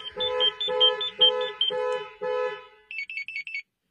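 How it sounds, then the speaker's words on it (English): A Jeep Trackhawk car alarm blares in a repeating pattern of five pulsing two-tone honks, followed by a quicker series of short high chirps, loud and close with no voices. "all the alerts of the alarm going off are going directly to the customer's smartphone and to their remote control"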